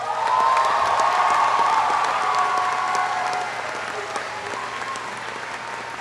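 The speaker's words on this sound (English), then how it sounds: "let's give a round of applause to all our family and friends" A graduation crowd applauds family and friends with sustained, dense, loud clapping and some cheering, heard close throughout and easing slightly toward the end.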